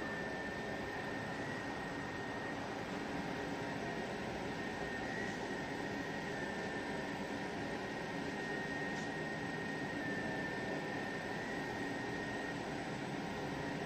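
A class 294 diesel locomotive engine in Train Simulator runs as a steady, even drone with broadband rumble and a constant high whine, with no voices over it.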